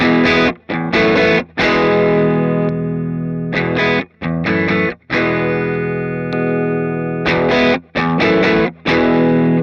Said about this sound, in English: you should be able to get a pretty transparent sounding boost with the gain all the way down